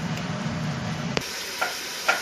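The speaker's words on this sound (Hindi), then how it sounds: "अब इसको हम साथ ही फ्राई कर लेंगे" Shami kababs frying in hot oil give a steady sizzle with a low bubbling layer, broken by a sharp tick of contact partway through, then a quieter sizzle with a couple of light clinks; no talking.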